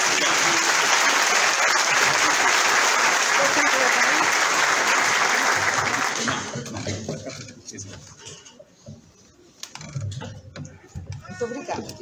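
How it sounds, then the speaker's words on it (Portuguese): Audience at a spiritist week event in Guarujá breaks into loud, dense applause lasting about six seconds, then it drops off into scattered claps, room noise and faint talking. "Os aplausos."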